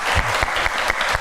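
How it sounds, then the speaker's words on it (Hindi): Studio audience applause for two guests on a talk show, a dense burst of many hands clapping close and loud, continuous with sharp individual claps standing out. "सो बहुत सारी तालियां दोनों गेस्ट के लिए।"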